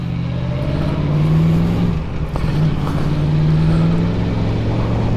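A newly wrapped motorcycle rides along a road with a loud, steady engine drone and wind noise throughout, the pitch rising and falling slightly.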